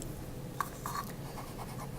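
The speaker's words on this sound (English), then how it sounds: "I'm going to trace a moon or a circle somewhere towards the top." A pencil scratches around the rim of a cup on paper, making short soft scraping strokes close by in an otherwise quiet room.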